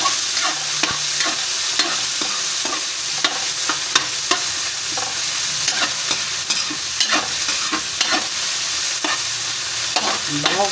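Garlic, onion and tomato sauté in hot oil for a tilapia dish, giving a steady close sizzle with repeated sharp scrapes and clicks of a utensil stirring the pan throughout, no voices.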